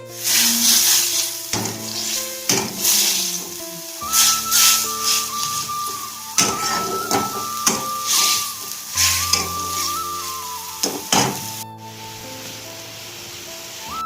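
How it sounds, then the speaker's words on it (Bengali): Two fish fry in oil in a home kitchen pan with onion, salt and turmeric, giving a loud, close, crackling sizzle with bursts of spitting and a thin whistling tone running through part of it. "এই যে মাছ দুটো ভেজে নিই।"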